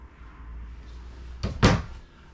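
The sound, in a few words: RV barn door sliding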